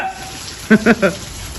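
A steady hissing downpour fills the background while a person speaks a few short, loud words close by.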